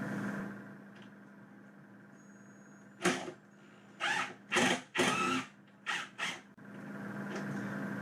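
An impact driver drives a screw through a pilot hole into a cabinet during installation, heard as several short, loud bursts of rapid hammering whirr between quiet pauses.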